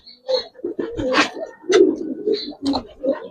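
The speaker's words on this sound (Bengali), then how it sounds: "কবুতর" Silver Giribaz and coloured pigeons, male and female, coo repeatedly at close range, with soft throaty rolling calls rising and falling in overlapping bursts and no talk.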